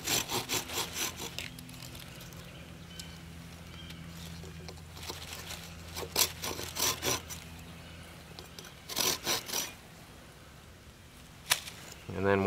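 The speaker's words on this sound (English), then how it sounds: "so you keep sawing until they do" Hand saw cutting through wood while building a live-game box trap, with rhythmic rasping strokes in short bursts that start and pause, close and moderately loud.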